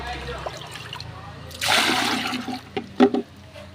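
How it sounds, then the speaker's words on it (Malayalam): Water poured from a 20-litre bucket into another bucket, a loud gushing splash that starts abruptly and runs for about a second, then a few smaller splashes and drips, with quiet background noise before it. "ഇരുപത് ലിറ്റർ കൊള്ളുന്ന ഒരു ബക്കറ്റാണ് ഇപ്പോൾ ഞാൻ ഒഴിക്കുന്നത്"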